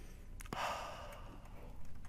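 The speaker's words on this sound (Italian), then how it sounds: "fai un lungo respiro" One person draws and releases a long, deep breath, an airy rush that swells suddenly and then fades gradually, heard close and alone.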